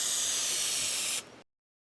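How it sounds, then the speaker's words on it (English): Spray adhesive hisses steadily from a can onto foam during a 2004 Honda Accord headliner repair, a close, loud and continuous burst that cuts off abruptly after just over a second. "You want to spray the foam?"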